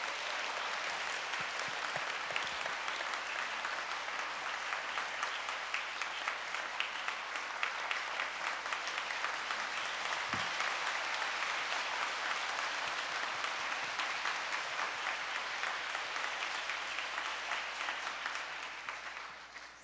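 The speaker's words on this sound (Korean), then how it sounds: "우리 뜨거운 박수로 제임스 로저스 우리 주교님을 단상으로 모시겠습니다." Sustained applause from a church revival congregation welcoming a bishop to the stage, a dense steady clapping roar lasting about twenty seconds before tapering at the end.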